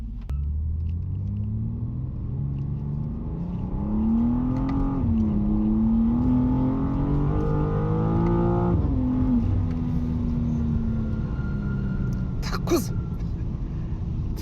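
A BMW M2 engine in sport mode revs and holds a steady, rising and falling drone, loud and close, with one brief sharp blip near the end.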